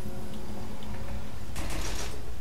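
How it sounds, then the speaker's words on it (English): A hotel door in Fallout 3 swinging shut, a mechanical creak and grinding slide followed by a brief rattling clunk over a steady game ambience hum, short and close. "How about we just close this door?"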